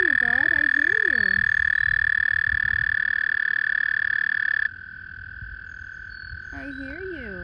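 A continuous shrill trill from mating frogs fills the air close by, dropping slightly in loudness midway, while someone talks over it at the start and again at the end.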